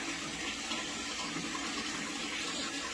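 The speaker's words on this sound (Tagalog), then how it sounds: "Ay si Habi, nag-igib ng tubig." Tap water running steadily to fill containers at a free public water source, a continuous broadband splashing stream that stays even and close throughout with no talking.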